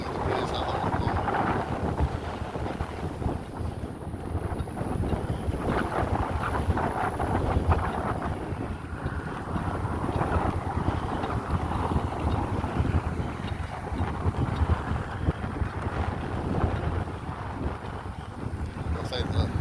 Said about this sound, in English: I can feel that wind blowing.